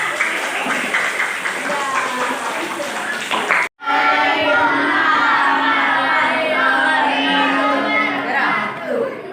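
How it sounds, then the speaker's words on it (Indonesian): Children cheer and clap loudly for a classmate at a school orientation session. The applause and shouting run continuously, with a brief cut partway through. "tepuk tangan dulu untuk Monica."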